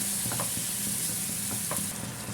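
A spice mixture with added water bubbling and sizzling in a pan, a continuous close hiss with a couple of light spoon scrapes mixed in.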